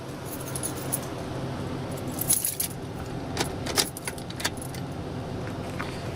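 A car key goes into the ignition of a 1999–2002 Chevrolet Silverado and turns, with keys jangling and a few sharp metallic clicks and rattles close by over a faint steady background hum.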